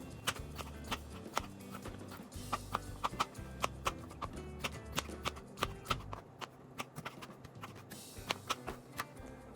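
A knife chops potatoes on a cutting board in a home kitchen, with rapid, uneven sharp knocks repeating close by and no one speaking.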